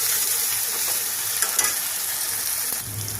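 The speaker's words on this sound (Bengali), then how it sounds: "এর মধ্যে এবার আদা রসুনের পেস্ট দিয়ে দিলাম। দিয়ে ভালো করে নাড়াচাড়া দিয়ে দিচ্ছি।" Ginger garlic paste fries in a pan for chana masala, a steady broadband sizzle with a few scraping stirs of a spatula, close and fairly loud throughout.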